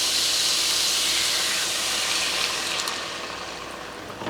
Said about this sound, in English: Now I'm adding a vegetable stock